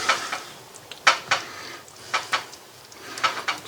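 A spoon scraping and clinking against a pot or plate while serving Bicol Express with rice, several sharp close metallic taps spaced irregularly over a quiet background.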